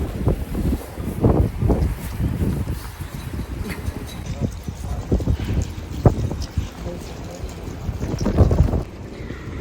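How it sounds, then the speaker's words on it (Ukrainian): Strong gusts on a warm January day in Greece buffet the microphone in uneven low rumbling bursts, rising and falling throughout, loud and close. "тепло, але вітер сильний"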